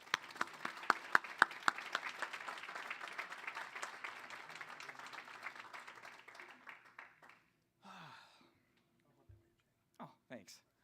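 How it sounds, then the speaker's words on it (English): Audience applause at a 2024 business awards banquet, dense clapping with some louder near claps that swells for several seconds, then thins and stops, leaving a few scattered handling sounds. "Please give a big round of applause to Rob Davidson."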